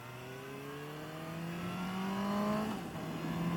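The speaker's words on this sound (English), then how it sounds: "oh, too much revs there, Mark." A Suzuki GSX-S750 motorcycle engine revs up smoothly while riding, its pitch climbing steadily for a few seconds before dropping off abruptly, heard close under steady wind noise with no talking.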